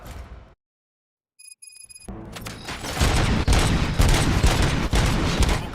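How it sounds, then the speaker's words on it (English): Rapid gunfire in the RoboCop video game, a dense clattering burst of shots that starts after a brief silence and a faint electronic beeping, then keeps going loud and steady to the end. "Gunshots? What's going on?"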